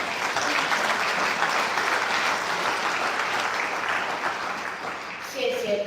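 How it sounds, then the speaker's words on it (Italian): Loud, full applause from a large audience at a World Food Day ceremony, a dense, sustained patter of many hands that holds steady and then eases slightly toward the end. "Please join us in another round of applause"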